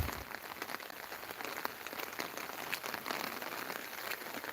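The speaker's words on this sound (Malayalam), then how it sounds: "ഉച്ച കഴിഞ്ഞ് മൊത്തം മഴയായിപ്പോയി" Steady rain patters densely on surfaces at Hill View Park in Idukki, a continuous close hiss of drops with scattered sharper taps and no voices.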